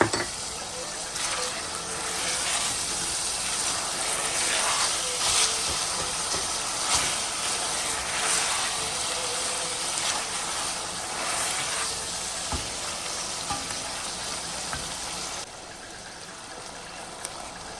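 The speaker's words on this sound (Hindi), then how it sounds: "अब मैं इसके अंदर डालने लगी हूँ, ये 1 टेबल स्पून के करीब है अदरक" About a tablespoon of finely chopped ginger sizzles in a frying pan while keema aloo matar, beef mince with peas and potatoes, is cooked, a steady close hiss of frying that holds through and thins near the end.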